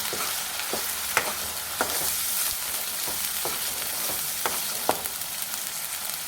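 Ginger garlic paste frying in hot oil, a steady hissing sizzle broken by repeated clicks of a spatula stirring the pan.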